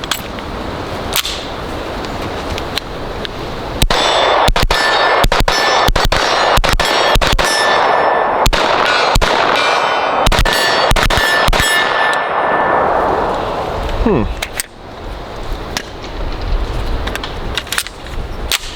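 A NEMO Mongoose direct blowback pistol-caliber carbine fires a long series of sharp shots, each followed by a bright metallic ring of rounds striking steel targets, loud and fairly rapid with a few short pauses.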